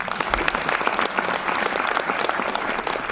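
Dense, sustained audience applause at a motivational session, many hands clapping steadily and loudly throughout with no pauses.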